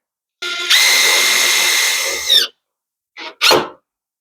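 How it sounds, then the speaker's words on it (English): A power drill driving screws into a wooden wheelchair ramp: one sustained whirring run of about two seconds that winds down, then two short bursts after a pause, loud and close with no talk. "let me get some screws in this, get a couple screws started"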